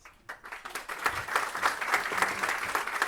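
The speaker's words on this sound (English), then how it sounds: "Please welcome, with a round of applause, Walter Schalka, CEO of Suzano," A crowd at a climate summit breaks into sustained applause, many hands clapping in a dense, steady patter that swells after a quiet start and carries on loudly.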